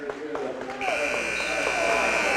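A loud, steady basketball game buzzer sounds over crowd noise and a commentator's voice, holding through to the end.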